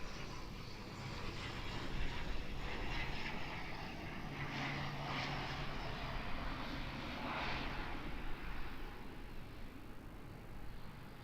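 An Air New Zealand ATR turboprop on final approach into Auckland Airport, a loud, steady propeller and engine roar that swells gently and holds throughout, with no talk.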